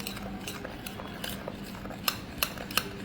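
A spoon stirs turmeric and rock salt together in a metal bowl, giving a soft scraping swirl punctuated by three sharp, close clinks toward the end.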